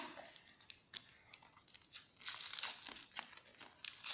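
Paper surprise packet being unwrapped, with close, crisp crinkling and tearing of paper in irregular bursts that grow busier toward the end, alone without talk.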